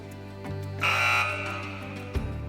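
A quiz-show buzzer sounds once, a loud harsh electronic tone of about half a second, over a steady low hum in a studio setting.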